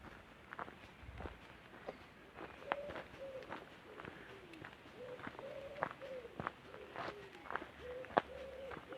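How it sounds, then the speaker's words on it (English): Birds call repeatedly outdoors on Midhurst Common, soft cooing notes at a moderate distance, mixed with scattered footsteps and light rustling. "so that you can just enjoy what you see and hear the birds in the background."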